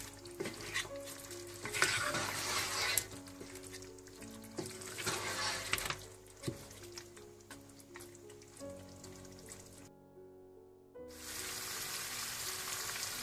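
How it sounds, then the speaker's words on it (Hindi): Peshawari namkeen gosht, mutton pieces frying and being stirred in a pot on medium heat, with loud continuous sizzling and scraping, a brief near-silent pause, then the sizzle resuming strongly. "अब आपने इसे मीडियम आंच पर तकरीबन 15 से 20 मिनट अच्छी तरह से भून लेना है।"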